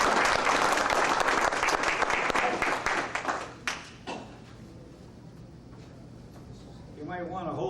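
An audience at a US Army 28th Infantry Division event claps in loud, dense applause that fades out after about four seconds, leaving quiet room tone. A voice starts speaking near the end.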